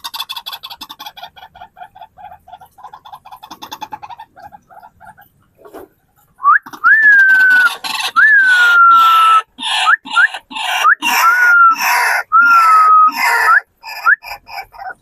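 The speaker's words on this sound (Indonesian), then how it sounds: "burung uak-uak yang memang suaranya cukup keras dan dia rajin berbunyi" Loud, repeated calls of a white-breasted waterhen ring out in a rhythmic series of harsh, rising notes, following quieter chattering and clucking at the start.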